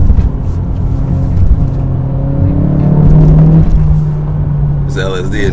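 Acura Integra engine pulling through sharp curves on a road, a steady close rumble rising in pitch as it accelerates, with a brief voice near the end.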